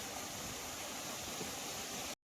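A waterfall in the Konkan near Kudal, heard as a dense, unbroken roaring rush of water that holds steady throughout before cutting off abruptly.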